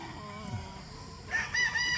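Brood cocks crowing at a chicken farm, a low background murmur of fowl giving way to a loud, strained crow near the end, fairly close with no talk.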